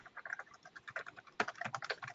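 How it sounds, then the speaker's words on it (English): Rapid, irregular keystrokes on a computer keyboard clatter continuously at a moderate distance, with a denser burst of clicks partway through and no one speaking. "Shannon, I can hear you typing."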